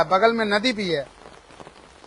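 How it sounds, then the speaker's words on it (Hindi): Heavy rain falls across a flooded village in Baliapur, Dhanbad district, beside the Damodar river. Someone talks over a steady, soft hiss of rainfall, which then carries on alone at low volume. "भारी बारिश हो रही है सभी जगह पर"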